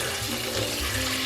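Hot grease is poured from a pan into a colander in a steady, splashing liquid stream, close and continuous without talk.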